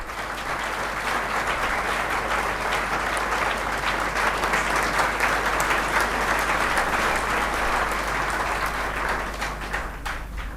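A crowd at a motivational seminar in Begusarai, Bihar, applauds loudly and steadily for a long stretch as a guest is honoured with a bouquet, with a low constant hum underneath.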